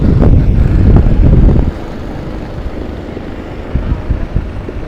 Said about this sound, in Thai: ค่อนข้างจะมีลมแห้งหน่อยนึงเนาะจะว่าในมื้อนี้เนาะทุกคนเพราะว่ามันจะลมพัดมา